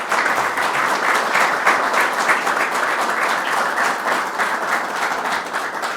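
A press conference audience gives steady, loud applause, dense clapping that holds evenly throughout and tapers slightly at the end.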